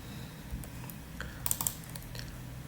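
Scattered keystrokes on a computer keyboard during a web server demonstration, a few light taps and a short cluster of quick clicks, faint and close with no talk.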